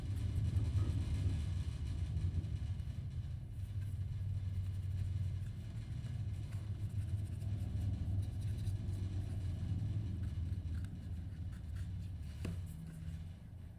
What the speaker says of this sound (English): It's up on the road and it sounds like a convoy of motorcycles.